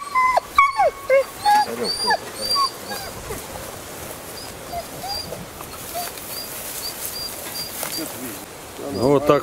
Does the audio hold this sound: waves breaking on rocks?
no